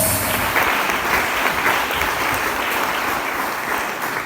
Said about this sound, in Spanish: Demos aplauso a la gloria de nuestro Dios.